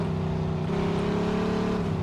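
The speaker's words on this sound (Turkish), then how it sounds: "Oğlum arabanın çıkarttığı ses bile çok güzel." A steady, droning car engine in the video game Mafia 2 hums continuously at a constant pitch, close and fairly loud, with no talking over it.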